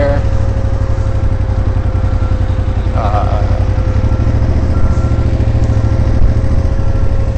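A motorcycle engine runs steadily and loudly up close in a South Dakota parking lot, a constant low throb that holds throughout without any change in pace.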